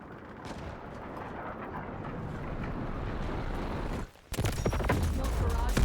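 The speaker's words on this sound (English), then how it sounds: "Nuke is incoming." A nuke explodes in the video game Delta Force: a sustained roaring rumble builds, cuts out briefly, then bursts back into a loud, crackling blast.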